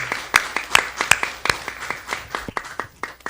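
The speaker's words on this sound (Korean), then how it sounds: "박수 올려드리겠습니다." A church congregation claps during a Sunday worship service, a loose scattering of sharp hand claps in an uneven rhythm that thins out near the end, heard alone without talk.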